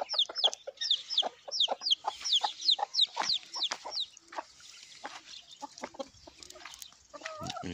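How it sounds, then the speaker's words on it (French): Hens clucking in a farmyard, a steady run of close, repeated squawky clucks and chirps that thins out toward the end. "Les poules, dégagez, c'est pas pour vous ça."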